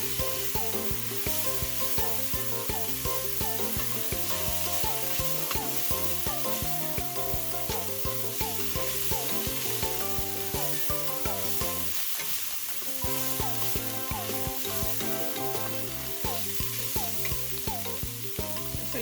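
Minced beef sizzles and is stirred in a pot while cooking for pilau rice, a steady frying hiss running the whole time beneath a prominent tonal background that sounds like music.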